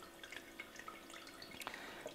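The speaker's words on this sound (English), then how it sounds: "And it has the sound of water getting through, and you can hear the water." Water trickles and drips softly in a Christmas village display, a faint continuous flow with scattered small drips and no talking.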